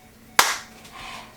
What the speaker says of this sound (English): All right, here we go, one more clap.